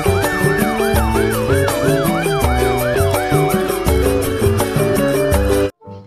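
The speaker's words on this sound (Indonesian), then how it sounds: "Di sini ada mobil pemadam kebakaran." A fire engine siren wails in repeated rising and falling sweeps, laid over loud, steady music and ending abruptly just before the close.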